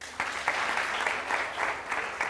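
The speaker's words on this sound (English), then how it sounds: "A huge round of applause to the wonderful speakers present here." Full-room applause from a TEDx audience for the speakers, a thick continuous patter of many clapping hands with small surges, close and steady, no voices over it.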